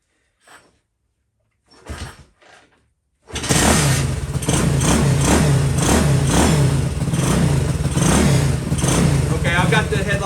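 A Honda CT70 motorcycle engine on choke is started after a few short clicks and a faint voice, catching abruptly and then running at a steady, loud, close idle with a slight pulsing beat.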